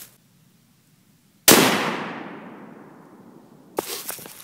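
A 7.62x39 round fired into an AR500 steel plate fitted with a spall guard: one sharp, loud crack followed by a long ringing decay, then a softer clatter of impacts at the end.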